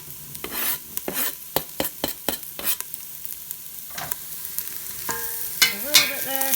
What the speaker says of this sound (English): I'm going to put those in my hot onions